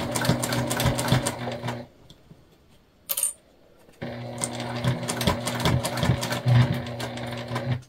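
A sewing machine stitches a dish drying mat tote bag with a quarter-inch seam, running in loud rapid bursts, pausing for about two seconds with a brief clink, then stitching steadily again.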